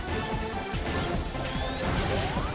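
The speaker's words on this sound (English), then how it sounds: "You can really hear the metal clanking every time you hit the guy." Rapid metallic clanks and crashes as Sonic strikes the Metal Sonic boss in Sonic Generations, repeated hits over dense, loud game music and whooshing speed effects.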